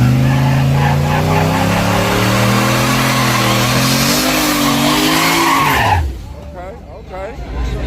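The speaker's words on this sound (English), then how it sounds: "I see he's spinning them wheels over y'all." A car on street tires at a Sunday street-racing meet in Dallas, Texas spins its wheels, a loud sustained roar and tire squeal wavering in pitch for about six seconds before cutting off into quieter crowd noise.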